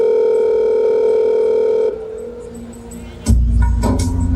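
A steady telephone dial tone hums for about two seconds while a mother calls her son, then cuts off into a brief quiet pause before a louder burst of line noise and tones.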